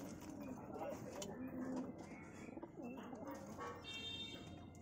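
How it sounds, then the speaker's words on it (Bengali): Giribaz pigeons coo softly, low rounded calls repeating amid faint chirps and steady background noise, quiet and somewhat distant. "খুব ভালো দারুণ কোয়ালিটির পায়রা আছে এগুলো"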